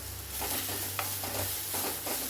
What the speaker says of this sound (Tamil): அதோட சலசலப்பு அடங்கட்டும்